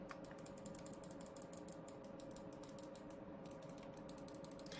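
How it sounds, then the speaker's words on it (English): Clicky buttons on a Razer Raiju game controller are pressed rapidly in close, quiet, repeated clicks, heard alone with no talking. "I did really prefer that sort of nice clicky sound like the Razer Raju controller, which is right over here. Listen to this."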